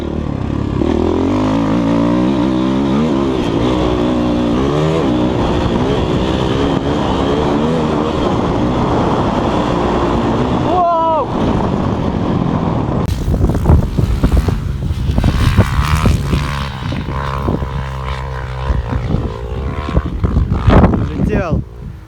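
A KOVI Advance 250 enduro motorcycle engine revs loudly and steadily on a motocross track with jumps, pitch rising and falling through throttle blips, ending in harder, rougher bursts with wind buffeting and voices shouting over it.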